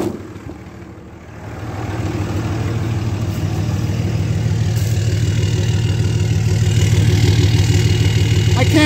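A 2003 Dodge RAM 3500 dually truck engine idles close by with a steady, low, even drone that builds slightly after a quiet start and then holds constant.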